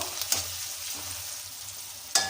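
Mustard seeds, curry leaves, green chillies and finely chopped potato sizzle in hot oil for potato poha, a steady close hiss broken by a few sharp pops and spatters.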